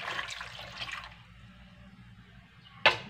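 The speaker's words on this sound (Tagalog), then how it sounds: "Sasabawan lang natin ng isang basong tubig." Water poured from a glass into a pot of peeled cassava on the stove, a soft splashing rush at the start that fades into quiet, then one sharp clank near the end.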